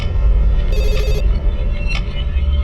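Telephone ringing in a police station office: a bright electronic ring bursts briefly, then a second shorter ring follows, both over a steady low room hum with no talking.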